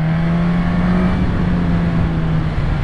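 A 2022 Suzuki Katana motorcycle engine drones loud and close, a steady, strained tone held throughout as the bike is ridden hard, with no voices.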